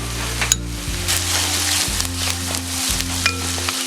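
Chopped garlic and ginger sizzle and fry steadily in hot oil in a pan for a mughlai seekh kebab masala, a close continuous crackle with a few sharp spatters and no talk.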